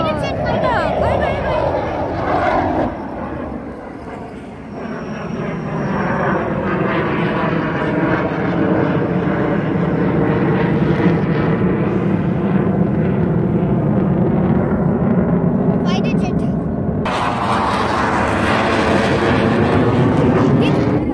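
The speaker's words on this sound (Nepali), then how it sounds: "यहाँ नजिकै फाइटर जेट्सको लागि ओल्ड एयरपोर्ट छ र यो एयरपोर्टमा चाहिँ टेक अफ गऱ्यो भने छिटो देखिन्छ" A fighter jet takes off from a nearby old airport in Qatar, its loud, continuous roar swelling and holding across the whole stretch, with voices heard at times beneath it.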